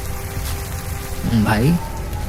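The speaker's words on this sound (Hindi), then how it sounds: "तभी बारिश होने लगी थी। हवाएं तेज चल रही थी।" Rain effect under a Hindi horror story, a steady patter of rainfall with wind behind someone speaking, loudest where his voice rises.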